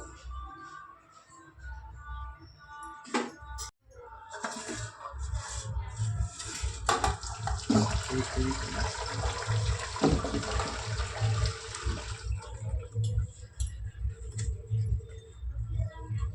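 Water pours and splashes continuously, draining from boiled cauliflower for several seconds after some clatter, loud and close.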